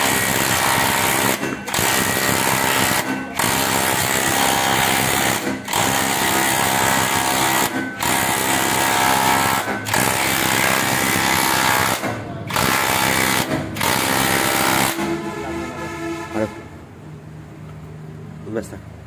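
Track of a Kubota tractor being tightened, a loud continuous mechanical whir like a power tool running in bursts with brief pauses, then winding down near the end; a voice talks over it.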